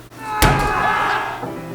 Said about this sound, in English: That's the sound of 10 pounds of meat.